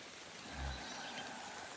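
Steady rain falls on the Appalachian Trail at dawn by a freshly broken camp with tents and hammocks, a faint, even wash of drops hissing across the surroundings with no voices.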